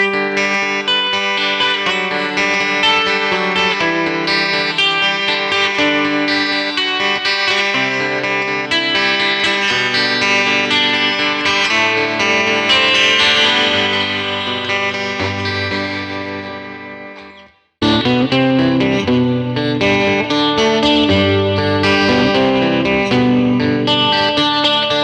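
A Danelectro SDC12 semihollow electric 12-string guitar plays through effects, with shimmering chorus-like strummed chords that sustain, fade into a brief silence, then resume, loud and continuous with no talking.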